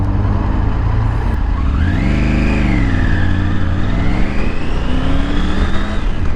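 A 2023 Triumph Tiger 900 motorcycle accelerates hard through the gears on a road in a 30 zone. Loud, close engine note climbs, drops at a shift, then climbs again, with steady wind rush underneath.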